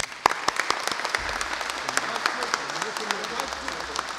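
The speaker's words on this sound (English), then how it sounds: "Let's give a round of applause." Audience round of applause at a public event with congressional members, starting as a few sharp individual claps and swelling into steady, fairly close clapping that continues to the end, with faint voices underneath.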